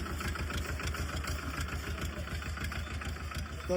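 A Powertrac 425N 25 HP tractor engine runs steadily in a village, a close, loud diesel chugging with a regular knocking pulse and vibration, heard alone without talk.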